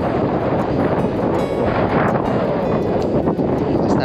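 Strong wind roars steadily across the microphone outdoors at midday, a dense continuous rush with rustling, loud and close throughout, with no talk over it.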